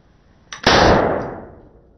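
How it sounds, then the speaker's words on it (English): A single unmuffled .22 gunshot cracks loud and close, its sharp blast trailing off into a decaying echo over about a second, with no talk. "Here, I'm going to shoot it"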